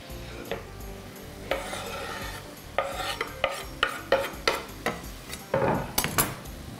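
Carrot rasps against a hand grater in a kitchen while a meat and lavash filling is prepared, the scraping strokes coming in a steady, close rhythm after a few scattered scrapes.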